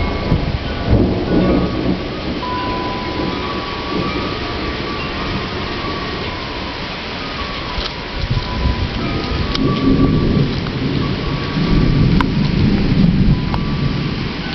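Thunder rumbles and rolls through steady heavy rain during a thunderstorm in Hudson, Massachusetts, with no one speaking and rain pattering continuously underneath.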